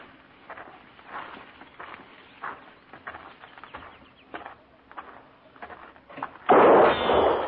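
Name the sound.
gunshot fired from a hut, radio drama sound effect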